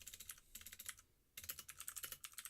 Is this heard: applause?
no